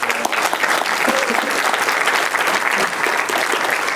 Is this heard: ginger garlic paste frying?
no